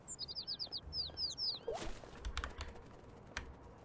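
Small birds chirp in a quick run of bright, repeated tweets in the Little Kitty, Big City video game, followed by a soft thump and scattered game noises, with no talking.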